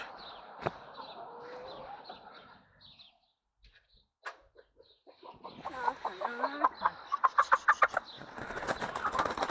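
Ex-battery hens on collection day cluck and squawk in a run of short, rhythmic calls, close by, with wing flaps and handling noises and a quiet pause in the middle.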